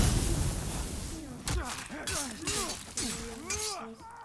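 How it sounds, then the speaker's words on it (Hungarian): An enemy in Demon's Souls screaming as it falls, a wavering, descending wail with crashing impacts and clatter from the game around it. "Miért üvöltött, ahogy leesett így?"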